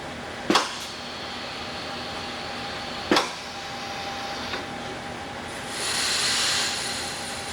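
A pneumatic bottling machine filling bottles with soap lets out two sharp air bursts a few seconds apart over a steady mechanical hum, then a brief rise of hissing flow near the end.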